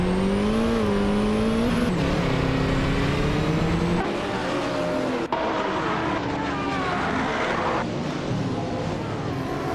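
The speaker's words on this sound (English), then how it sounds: "A car 77 has shot to the front as the race begins." Race cars in a racing video game roar continuously with engine whine and shifting pitch, loud and close throughout, with layered motors overlapping and no break.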